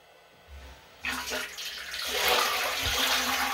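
Liquid rushing through a new CIP washing system on brewery equipment, starting after a brief pause and swelling into a loud, continuous gushing flow that builds and holds steady.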